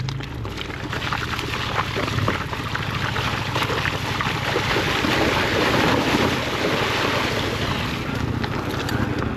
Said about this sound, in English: let's get me going through the water for the first time